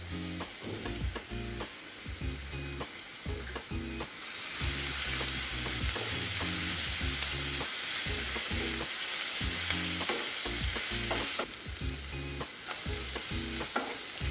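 Onions being sautéed with curry leaves in a pan over a medium flame for a chicken dish, with steady close sizzling and repeated scraping stirs of a spoon throughout, growing louder in the middle.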